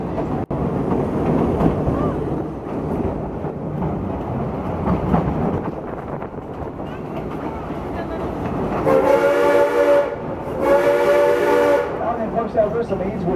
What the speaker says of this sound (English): That whistle means we are now pulling into Geyser Gulch.